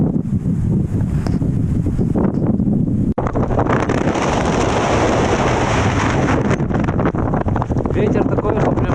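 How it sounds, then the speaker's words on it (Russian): Strong wind beside the Yalpug river buffets a backpack and the microphone, a loud, continuous roaring rumble with gusty surges and a brief break near the middle. "Ветер такой, что прямо рюкзак парусит"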